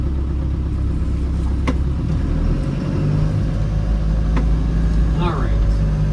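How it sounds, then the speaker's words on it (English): A 1991 Land Rover Defender 90 with a 200Tdi diesel engine running in a steady, low, loud rumble, with a few brief clicks and knocks over it. "Fires right up. The 200 TDI runs great."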